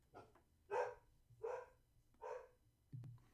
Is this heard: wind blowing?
no